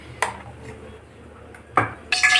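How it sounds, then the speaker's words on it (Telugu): A cooking bowl is set down in a home kitchen with a couple of short clinks and knocks, followed by a brighter metallic clatter at the end, over quiet room background. "నేను గిన్నె పెట్టుకున్నానండి."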